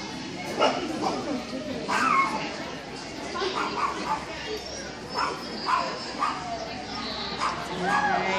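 A dog's short barks and yips pop up now and then amid busy outdoor chatter and excited voices at a dog obedience demonstration, fairly close by.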